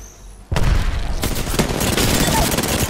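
A frag grenade blast in a video game firefight, a sudden loud boom followed by sustained dense gunfire that carries on steadily to the end.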